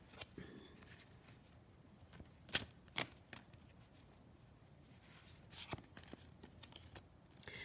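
Tarot cards being shuffled close by, with soft riffling and rubbing and a few sharp card snaps and taps in an uneven rhythm.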